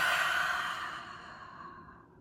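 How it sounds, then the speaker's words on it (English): A single slow, audible exhale that fades gradually over about two seconds, close and soft, taken during a guided breathing exercise with no talk over it. "you can connect with your breath. Inhale and exhale."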